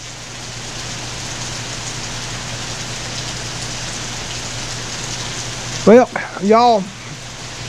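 Steady rain falls throughout as a broad, even hiss with a faint low hum beneath, and near the end a voice briefly speaks over it.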